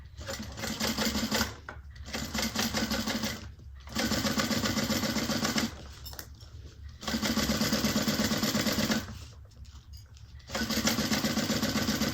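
A sewing machine stitches straight across a handbag lining seam at a 3/8 allowance, running in four steady bursts of rapid, even whirring separated by short pauses.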